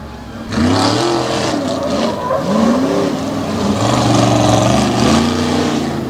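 Tough trucks, including a long-wheelbase truck called Warhorse, race around Lake Erie Speedway, engines revving loudly and repeatedly with rising and falling pitch, close and continuous throughout.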